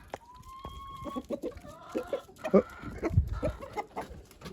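Several chickens cluck and murmur close by in short irregular bursts, with a brief high whine early on and a person's quick exclamation.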